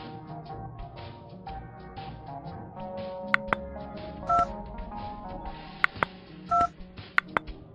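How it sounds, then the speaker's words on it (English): Telephone keypad dialing tones from a kids' safety video game, several short separate beeps heard over steady background game music, with no talk. "Get the phone to call ambulance."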